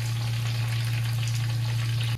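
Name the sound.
chicken pieces frying lightly in oil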